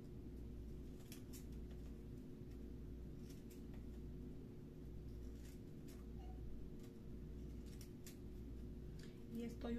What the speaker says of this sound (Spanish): Estoy usando mis tijeras de zigzag para que le dé un toquecito más bonito.